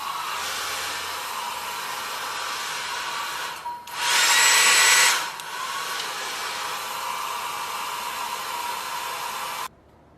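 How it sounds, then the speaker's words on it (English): Hair dryer fitted with a diffuser, used on short natural hair, blows as a steady close whoosh, briefly roaring louder and harsher for about a second before settling back, then cutting off at the end. "So I'm going to diffuse the front of my hair and then blend it with the"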